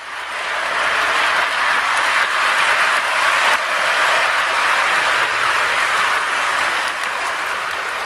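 A model railroad locomotive emerges from a tunnel close to the track, giving a steady, moderately loud rolling rumble with a hissing wash that holds evenly from start to finish, with no voices.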